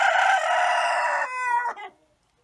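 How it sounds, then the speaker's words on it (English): A backyard chicken lets out one loud, drawn-out crow-like squawk that breaks up and trails off into silence, close to the microphone. "My other chicken is underneath there."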